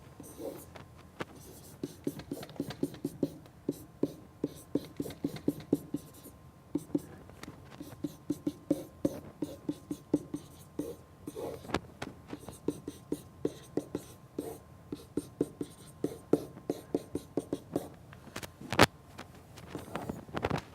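Pen on paper writing out algebra by hand: a steady run of soft, close scratching strokes and small taps, quiet and continuous with brief pauses, under faint room noise.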